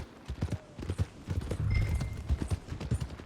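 Horse hooves clip-clop in a steady walking rhythm on a path in the Red Dead Redemption 2 video game, close and distinct, with a brief soft snort or whinny among the hoofbeats.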